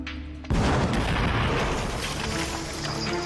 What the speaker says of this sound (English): Again, the explosion rocks the quarry.